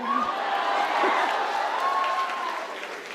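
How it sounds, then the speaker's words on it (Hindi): An audience at a Hindi hasya kavi sammelan poetry gathering claps together in a dense, sustained burst that fades slightly toward the end, with a voice briefly audible over it. "लेकिन अगर तुम अपनी बहनों से प्यार करते होगे तो ताली बजाओगे"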